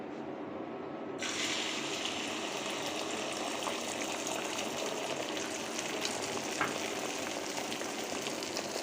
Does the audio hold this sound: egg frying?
yes